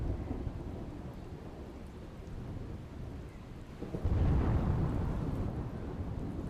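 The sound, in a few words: heavy rain with thunder and strong wind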